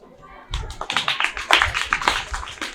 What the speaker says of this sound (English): with standing and clapping ovation